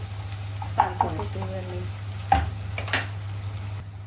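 Green chillies and garlic fry in a pan with a steady close sizzle, broken by a few sharp spatula knocks and stirring scrapes over a constant low hum.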